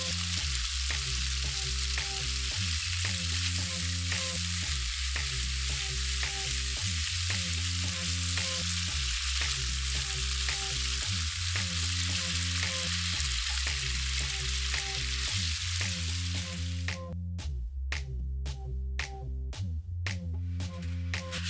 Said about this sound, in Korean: 고기가 거의 구워지면 버터 10g을 넣고 버터 향을 추가해요.